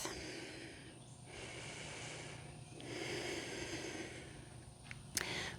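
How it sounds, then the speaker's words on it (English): Slow, steady breaths during a hatha yoga practice for the hips, soft airy inhales and exhales drawn out over several seconds at close range, ending with a brief sharp sniff. "And just breathe."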